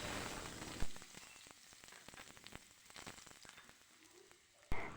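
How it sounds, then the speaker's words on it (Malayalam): Chopped shallots frying in coconut oil as a tempering for fish curry, a steady soft sizzle and crackle with a few sharper pops, close by and with no voices. "ഞാൻ കുറച്ച് ചുവന്നുള്ളിയൊക്കെ അരിഞ്ഞ് വെളിച്ചെണ്ണയിൽ കറി ഒന്ന് വറവിട്ടെടുക്കുകയാണ്"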